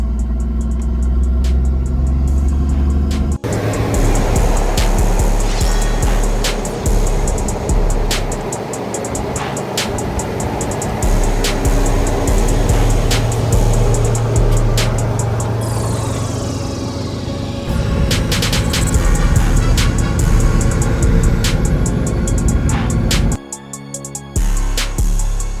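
A GQ Patrol 4WD cruises along the road on a long highway drive. A loud, continuous engine and road drone is heard from inside the cabin, with a few shifts in tone and brief dips.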